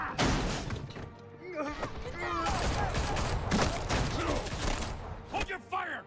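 Gunfire in the Batman: The Telltale Series video game, bursts of shots and crashes mixed with game dialogue voices over a dense, loud soundtrack.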